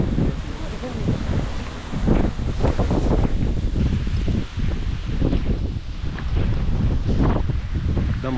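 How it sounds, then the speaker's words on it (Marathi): Wind on a mountain trek up Kurvandya Ghat toward Duke's Nose in the Sahyadri hills, with crops swaying nearby, rushes and buffets loudly against the microphone in gusts, with a voice faintly underneath. "एकदम मंत्रमुग्ध करणारा असा हा वारा आहे"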